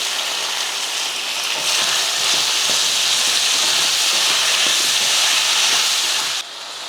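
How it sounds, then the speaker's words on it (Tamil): Eggplant and tomato sautéing together in a hot pan with salt and turmeric, a steady loud sizzling hiss running throughout, dipping slightly at the very end. "தக்காளி கூடவே கத்திரிக்காய் சேர்த்து போட்டுக்கலாம் ரெண்டு ஒன்றா வதங்கிடும்"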